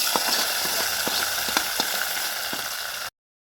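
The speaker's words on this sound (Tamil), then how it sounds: "இப்போது நம்ம தாளித்த தாளிப்பை அப்படியே அதில் சேர்த்துடலாம்" Hot tempering poured into kosumalli, a Coimbatore-style raw vegetable salad, gives a steady close sizzle and frying hiss for about three seconds with faint clinks, then cuts off into silence.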